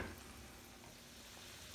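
Sliced onion and pepper sizzle softly and steadily in a pan, a faint, even frying hiss with no talking.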